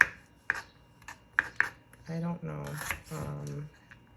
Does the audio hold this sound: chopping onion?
yes